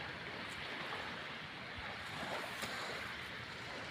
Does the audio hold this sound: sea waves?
yes